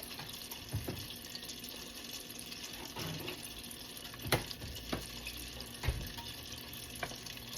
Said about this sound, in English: I'm going to gently put them down in the oil and let them fry for approximately a minute